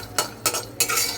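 A spoon scrapes through peanuts roasting in a pan, making three distinct stirring strokes in quick succession, with a soft sizzle between them and no voices.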